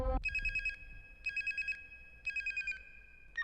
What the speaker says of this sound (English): when I heard the phone ring